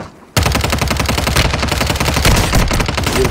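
Rapid, sustained automatic fire from a Superia rifle in the mobile game Call of Duty Warzone Mobile, loud and continuous for about three seconds after a brief quiet start, with no talking.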